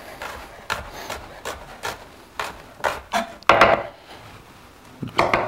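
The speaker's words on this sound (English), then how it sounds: "And I'm just doing about 1/4 inch slices here" Knife slicing an onion into quarter-inch pieces on a cutting board, a steady series of close, crisp chops at roughly even half-second intervals, ending with a couple of heavier cuts.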